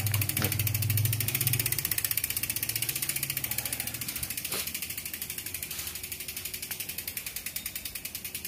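Lovatec loud rear hub on a Cube 27.5 mountain bike freewheeling, a rapid, even train of sharp ratchet clicks that slows gradually as the wheel coasts, close and clear with no talk.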